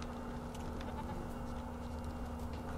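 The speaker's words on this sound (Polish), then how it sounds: "A to gdzieś mi tu beczy." Sheep or goat bleating somewhere in The Witcher 3: Wild Hunt game world, faint and distant beneath a steady ambient drone and low hum, with no voices.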